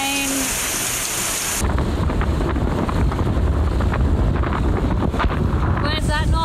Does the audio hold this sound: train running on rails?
no